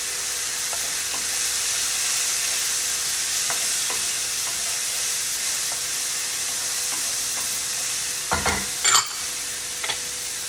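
Garlic and red pepper flakes sizzle steadily in a hot pan with a constant frying hiss, stirred throughout, with a few louder scraping clatters of the utensil near the end.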